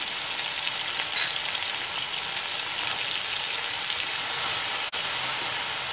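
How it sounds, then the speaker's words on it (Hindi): Chicken pieces seasoned with salt, black pepper and crushed red chilli fry in a pan for restaurant-style fried rice, making a steady close hiss and sizzle with a single sharp click near the end. "चिकन को हमने अच्छी तरह फ्राई करना है"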